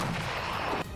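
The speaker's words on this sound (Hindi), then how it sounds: "रूसी सेना ने उस पर तोप से जमकर गोले बरसाए।" Russian artillery cannon firing on the battlefield, a dense, broad roaring blast that fills about a second before cutting off abruptly, loud and heard alone.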